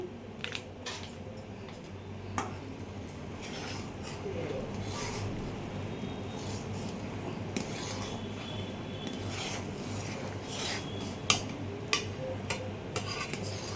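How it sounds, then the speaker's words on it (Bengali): Powdered milk being stirred into a mixture in a home kitchen, with scraping and clinking of a utensil against the pan at irregular intervals over a low steady background hum. "ভালো করে আগে নাড়িয়ে নিই যাতে আমাদের পুরো ইটা ঠিক থাকে।"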